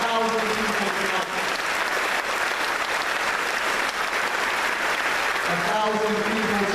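A large crowd of over a thousand people claps at a community justice assembly, dense sustained applause filling the room from start to finish, with a voice briefly speaking over it.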